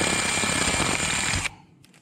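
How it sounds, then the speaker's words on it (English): A power drill bores into an LS engine water pump, a loud steady grinding buzz running for about a second and a half before cutting off abruptly into quiet. "nice and easy drill."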